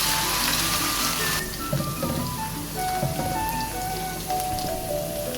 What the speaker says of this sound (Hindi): इसमें हम लहसुन अदरक की पेस्ट डालेंगे। इसको हम थोड़ा सा फ्राई करके